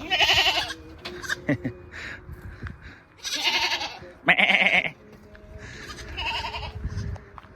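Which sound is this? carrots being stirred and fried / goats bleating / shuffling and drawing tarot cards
goats bleating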